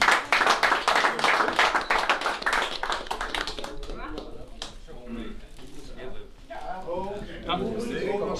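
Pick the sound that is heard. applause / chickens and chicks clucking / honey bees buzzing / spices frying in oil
applause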